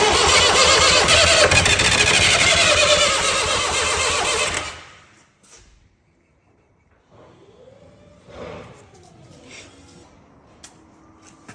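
A large engine cranking on a 24-volt jump pack, loud and continuous for several seconds before cutting off abruptly, then quiet with faint knocks and movement.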